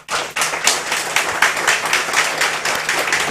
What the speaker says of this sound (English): I want to give my panelists a round of applause for me